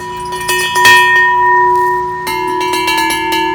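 Several bells in a sensory garden ring at different pitches, struck one after another, with clear sustained tones that ring on between strikes.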